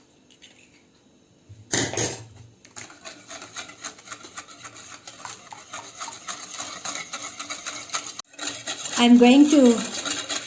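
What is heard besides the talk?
blending wet ingredients for red velvet cake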